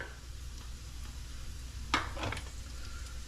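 Onions and garlic frying in bacon fat, a steady low sizzle with a brief clatter of utensil against pan partway through.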